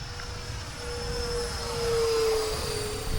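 An E-flite F-15 64 mm EDF model jet passes by, its steady high-pitched ducted-fan whine swelling gently as it nears and then easing off, heard alone outdoors.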